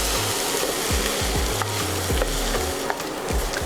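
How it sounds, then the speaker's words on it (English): Onions sautéing in a pan for a scalloped cassava sauce give a steady, close sizzle, with scattered wooden-spoon taps and scrapes as they are stirred. "I'm gonna let these onions cook down and reduce nicely"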